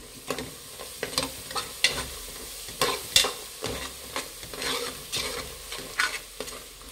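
A spoon stirs ground mint, coriander leaf, onion and chili paste into a pot of Kashmiri veg biryani, giving repeated scraping strokes over a soft sizzle with no talking.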